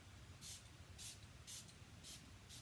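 A spray bottle fires five short, bright hissing bursts at a steady pace, each about half a second apart, close by and soft, with quiet room tone between them.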